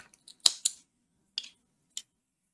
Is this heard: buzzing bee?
no